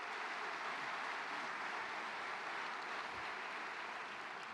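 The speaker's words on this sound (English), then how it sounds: "A round of applause for our Certificate of Advanced Study graduates" Broad, continuous applause from a large crowd at a university commencement ceremony for certificate graduates, a thick wash of clapping that stays loud and even throughout without breaks.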